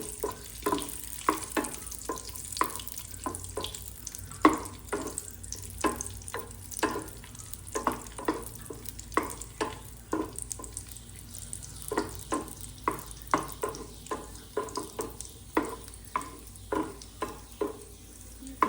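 Raisins fry in a pan while vermicelli kheer is being made, a soft sizzle broken by a long run of rhythmic stirring clicks and taps against the pan, with no talking.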